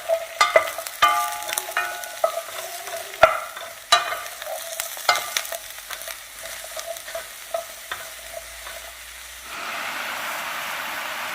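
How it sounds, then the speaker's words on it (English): Mushrooms sauté in olive oil in a pan with a steady sizzle, broken by repeated sharp clatters and scrapes of stirring. Near the end the scraping stops and a louder, even hiss takes over. "Now I'm going to saute."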